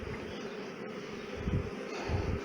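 A steady, low insect buzz of honeybees fills the clip, swelling slightly in places, with no voices present.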